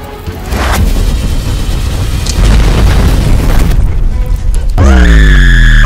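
An eye laser blast in Roblox Brookhaven hits as a loud, booming explosive rush, then ends in a bright rising electronic whine.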